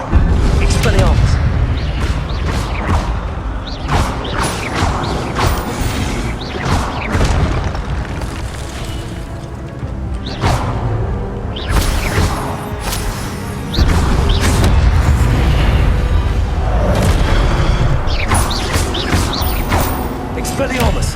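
Repeated Expelliarmus disarming spells fire during combat in Hogwarts Legacy, loud booming bursts and crackling blasts at an irregular pace over a dense, noisy battle bed, with a player talking throughout.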